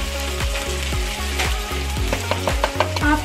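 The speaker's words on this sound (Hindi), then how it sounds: "बस जो आलू है वो भुन चुके हैं, अभी हम इसमें ऐड करेंगे टमाटर का पेस्ट" Potatoes sizzle steadily in a hot pan for aloo bhujiya as tomato paste goes in, with close, loud frying hiss and a few light scraping stirs, no talking.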